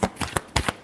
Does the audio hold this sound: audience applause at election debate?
no